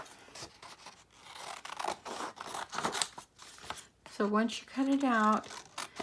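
Scissors snip through paper while cutting out a traced mailbox end template for a Valentine's mailbox, with crinkling and rustling throughout and a voice talking over the cutting near the end.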